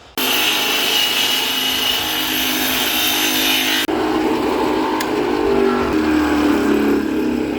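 Power saw ripping a wood board lengthwise into a thin batten strip, a loud, steady cutting roar held for several seconds, then a brief break and a second continuous stretch of sawing up close with no talk.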